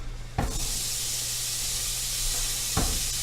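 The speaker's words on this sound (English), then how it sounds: "a little sizzle." Steady sizzling hiss of vegetables in a hot pan, with a low hum underneath and two brief clattering knocks.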